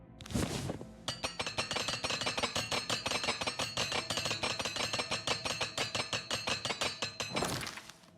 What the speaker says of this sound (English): Where is my repair hammer?